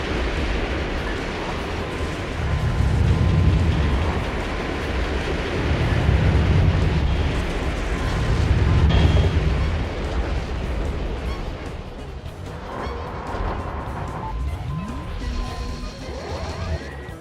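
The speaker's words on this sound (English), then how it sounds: "More long-range missiles." Long-range missile strikes in the mech action game Metal Wolf Chaos XD, with heavy booming explosions rolling in waves for several seconds, then tapering into quieter rumbling debris and wind-like noise.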